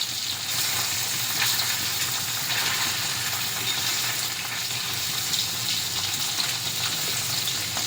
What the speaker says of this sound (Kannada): ಆ ಕಡೆಯಿಂದ ಫ್ರೈ ಮಾಡ್ಕೋಬೇಕು